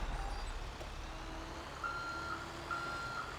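An NSW RFS fire truck backing into its station gives a steady run of reversing beeps, starting partway through, evenly spaced and fairly clear over a low idling engine rumble.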